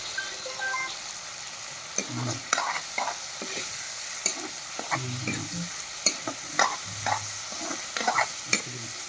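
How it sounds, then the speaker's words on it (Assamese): Ridge gourd and potato pieces frying in hot oil with onion and green chilli, a steady sizzle broken by repeated scraping stirs and clanks of a spatula against the pan, close by and without talking. "এই জিকা আৰু আলু ভাজি আছোঁ।"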